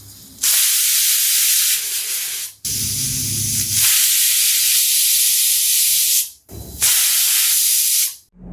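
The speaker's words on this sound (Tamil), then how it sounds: "ப்ரெஷர் முழுக்க ரிலீஸ் ஆகிடுச்சு." A pressure cooker holding moong dal for sambar vents steam in three loud, close hissing bursts separated by brief near-silent gaps, with no speech over it.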